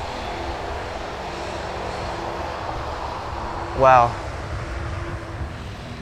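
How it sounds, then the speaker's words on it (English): Boeing 787 with GEnx jet engines, heard from about 250 meters behind, gives a steady loud roar that stays constant throughout, with a brief louder burst partway through and a voice exclaiming once. "Hopefully you can still hear me over the GNX engine."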